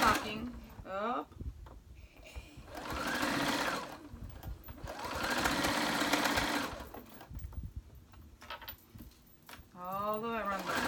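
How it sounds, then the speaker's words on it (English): A sewing machine runs in sustained bursts while stitching around a fabric Christmas stocking, a steady mechanical whir with pauses between runs, and someone talks between and over the stitching. "I'm sewing all the way around the stocking."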